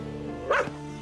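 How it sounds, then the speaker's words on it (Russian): A tethered dog gives a single sharp bark close by, clear against a low steady background hum. "Заткните эту собаку."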